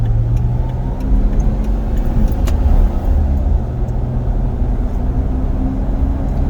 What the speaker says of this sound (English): alignment's good, drives nice, stops nice, shifts nice